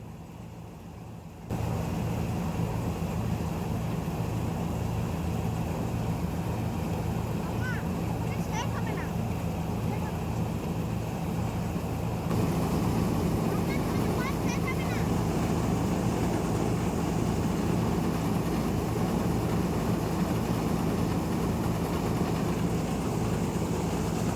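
A wheat threshing machine running in a field, giving a loud, continuous mechanical drone with a steady rhythmic throb that kicks in after a quiet start and keeps going, with faint voices in the background.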